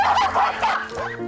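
Several pet dogs bark and yip excitedly close by as they gather around a woman in the afternoon, short overlapping barks with whimpering tones, loud and continuous.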